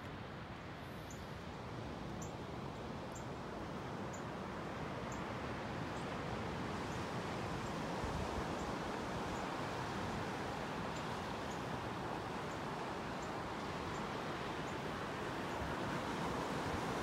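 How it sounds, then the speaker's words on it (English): Ocean surf rolling onto a Gulf beach at Delnor-Wiggins Pass State Park under an onshore breeze, a steady, distant wash of waves blended with soft wind rumble, no voices. "Kicking up some waves out there, a little wave action."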